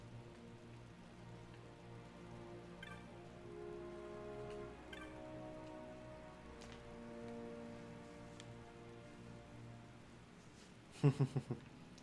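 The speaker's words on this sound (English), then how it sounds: "it is raining" Steady rain falls in the Final Fantasy XII video game, a continuous soft patter over sustained tonal game music, with a brief cluster of sharper louder hits near the end.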